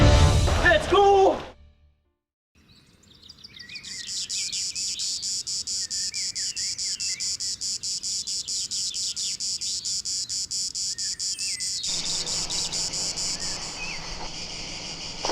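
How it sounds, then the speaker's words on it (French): Cicadas buzz in a steady, loud, dense drone across the Tuscan countryside, with chirping bird calls layered over it; brief talk and a moment of near silence come first. "On entend déjà le son des cigales."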